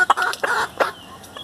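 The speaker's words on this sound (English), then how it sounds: "These are my Hamburg chickens," Hamburg chickens, large fowl, clucking in a few short, close, irregular bursts with no talk.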